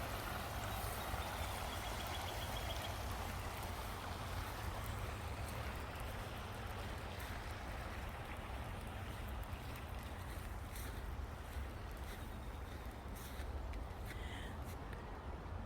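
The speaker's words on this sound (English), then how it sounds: "Oh, beautiful brook." A brook flows steadily through an old cemetery at Norwichtown, its rushing, unbroken water noise filling the whole stretch at an even level with no voices.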